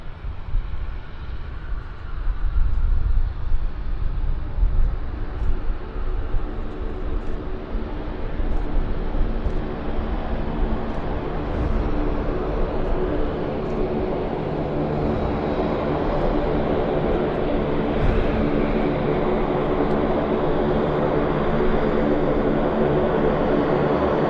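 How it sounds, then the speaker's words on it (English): A Porter Airlines Embraer 190 jet airliner at Vancouver Airport makes a loud, steady engine roar and rumble that holds for the whole stretch. No voices are heard over it. "this is Porter Airlines. This is a Embraer"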